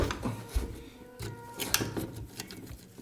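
Screwdriver turning an oversized screw into a speaker box being built with a Bluetooth board, giving close, uneven creaks and scraping grinds with a few sharp clicks, no talking.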